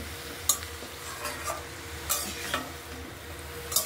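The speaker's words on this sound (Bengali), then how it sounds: "তরকারিটাকে নেড়ে চেড়ে ঢাকা দিয়ে রাখবো" A vegetable curry is stirred in a pan over low background sizzle, with a few soft scraping strokes of the spoon spaced irregularly and no voices.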